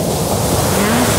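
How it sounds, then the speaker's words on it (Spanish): Ocean waves on a beach make a loud, continuous wash of surf, a dense steady roar with no clear breaks and no voices heard. "Escucha las olas."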